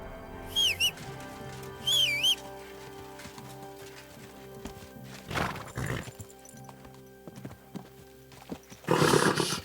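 Horse hooves clip-clopping and sharp whinnies from a horse in the medieval open-world game Kingdom Come: Deliverance II, two bright neighs early, then hoof steps and rustling with a louder burst at the end, against a quiet game ambience.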